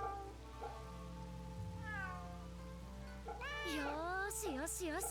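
A cat in the video game Fate Samurai Remnant meows repeatedly, a few rising and falling cries growing more frequent toward the end, over a steady music and ambient bed with light rain.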